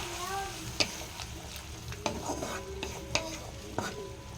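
Fish pieces simmer and sizzle in a spiced curry with green chillies, a steady bubbling fry broken by a few sharp clinks of a spoon stirring the pan.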